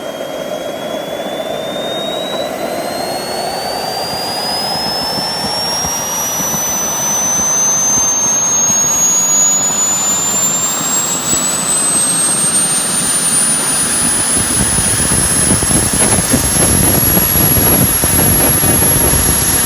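JetCentral model turboprop turbine engine running, a loud close whine that climbs steadily in pitch as it spools up, over a constant rushing roar with no talk.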